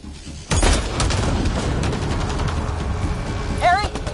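Heavy gunfire in a Mass Effect Andromeda battle, a loud sustained barrage that kicks in abruptly after a brief quiet, with booming impacts and a wavering sci-fi tone near the end.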